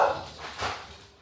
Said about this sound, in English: They think they gotta bark at everything.